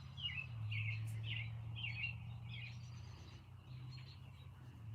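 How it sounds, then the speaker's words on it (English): Several short bird chirps repeat in quick bursts outdoors over a low steady hum, fairly faint and slightly distant. "can hear the birds, so it sounds good."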